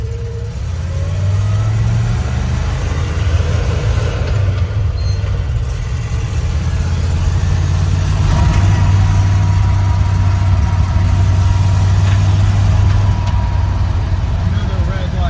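An old Chevrolet K10 truck engine runs at a high idle, a loud, steady low rumble heard from inside the cab, with occasional brief variations.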